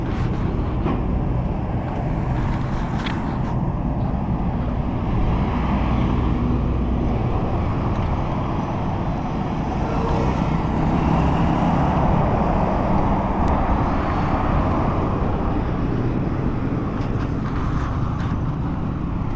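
Army car passing along a suburban road in Ntinda, a steady broad engine and tyre roar close by with wind buffeting the microphone throughout.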